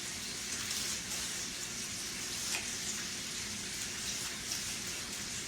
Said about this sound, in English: We've got our bacon frying.